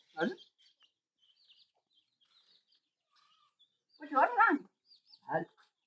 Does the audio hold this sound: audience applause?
no